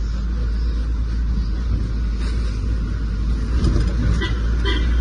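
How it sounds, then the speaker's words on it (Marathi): Traffic jam on a road near the Kota bypass: a steady low engine rumble from idling and creeping vehicles, close and continuous, with faint horns and road noise on top and no clear talk. "बघा ट्रॅफिक जाम, बघा ट्रॅफिक जाम."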